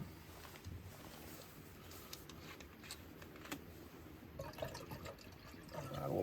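Water trickles and splashes faintly as it is poured in to make pour-over coffee at a campsite. The pour is soft and quiet, then grows a bit brighter and louder toward the end.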